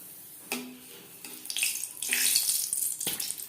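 Two dried red chillies fry in mustard oil over low flame, a soft hiss with a few brief sputters and crackles, quiet and close with no talk.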